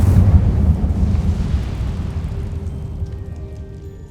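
A loud, broad fiery whoosh from the Incendio spell in Hogwarts Legacy bursts at once and then roars and crackles, slowly dying away over a few seconds, with no voices.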